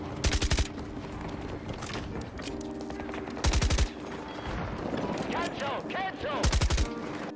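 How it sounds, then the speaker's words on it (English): RPK machine gun in Battlefield 2042 fires several loud sustained bursts with a suppressor attached, the reports sounding unsuppressed, separated by quieter stretches of ambient game noise. "the RPK seems to play the same sound whether or not you have a suppressor on the gun"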